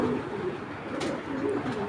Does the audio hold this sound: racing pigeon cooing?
yes